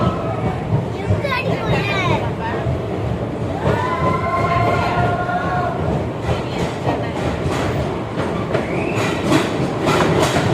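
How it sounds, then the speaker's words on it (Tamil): A small locomotive engine runs on a nearby track beside a moving passenger train in southern India, a continuous loud rumble and rattle of wheels with faint squeals, while people talk over it. "பக்கத்துல ஒரு ட்ரெயின் போகுது சின்னதா அந்த என்ஜின் மட்டும்"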